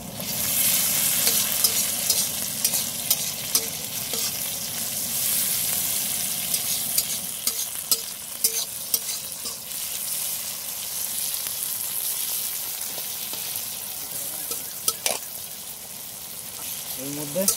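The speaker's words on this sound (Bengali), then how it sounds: "এবার আমরা কেটে রাখা টমেটোটা এর মধ্যে দিয়ে দেবো।" Chopped tomato drops into onions already fried in a pan, sending up a steady loud sizzle and frying hiss that runs continuously with scattered stirring clatters and a brief splash near the end.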